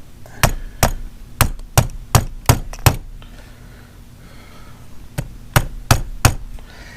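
Sharp metallic hammer taps on a part of a 1960 Johnson 18hp outboard motor, seven in a quick steady run, a pause, then four more, close and loud.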